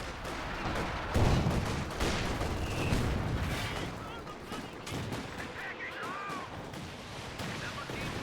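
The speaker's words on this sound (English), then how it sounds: "And another caddy barrage on the officer, forcing it away." A video game battle with an artillery barrage, booming impacts and bursts of gunfire thudding repeatedly at moderate volume, with a commentator's voice talking over it.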